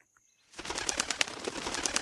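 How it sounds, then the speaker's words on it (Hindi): Two large owls flap their wings through the night air from a tall banyan tree, a rapid run of rhythmic wingbeats that starts suddenly after a quiet moment and stays close and fairly loud. "ये आवाज करते हुए दो बड़े बड़े उल्लू हवा में परवास करते हुए सामने की डाल पर जा बैठे"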